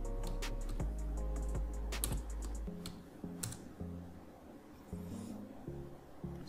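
Computer keyboard keys tapped in short scattered clicks while a command is entered, faint and close over a low background hum.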